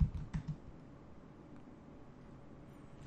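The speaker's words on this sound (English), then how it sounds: "install it by typing in the exclamation mark pip install" Keys on a computer keyboard are typed while entering a pip install command: a few quick clicks near the start, then faint, sparse tapping under a low, quiet background hum.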